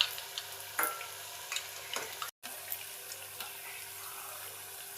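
Suyyam sweets fry gently in a little oil over a low flame, a faint, steady crackling hiss with a few soft taps as they are turned slowly, and a brief dropout midway through.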